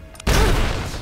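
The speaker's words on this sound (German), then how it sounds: "Moment, Explosion." A sudden loud explosion in the video game Rise of the Tomb Raider erupts after a brief quiet moment, then leaves a dense, rumbling roar that fades slowly.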